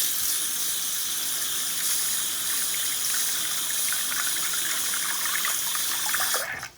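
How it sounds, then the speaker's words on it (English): Warm water gushes steadily from a tap while a cleaned nickel coin is rinsed under it, a close, continuous splashing that cuts off abruptly at the end. "I'm going to take a little warm water."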